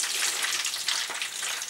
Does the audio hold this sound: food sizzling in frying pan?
yes